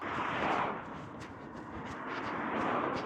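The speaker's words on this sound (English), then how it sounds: "The wind is awful, absolutely awful." Strong wind buffeting a microphone outdoors while a runner jogs on a hilly route, a steady loud rumbling roar that swells and eases in gusts with no talking.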